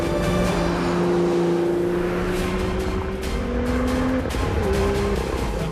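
A BMW M2 racing on a track through the last corner and across the line, its engine a steady sustained drone with shifting pitch as it passes, loud and continuous with no talk over it.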